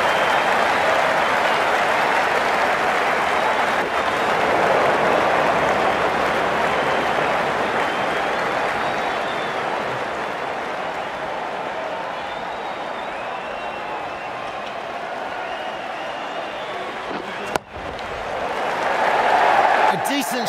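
A stadium crowd applauds and cheers at a New Zealand versus South Africa World Cup cricket match in the Ashes Cricket game, with broad sustained clapping that slowly fades and swells again near the end, beneath a commentator's voice.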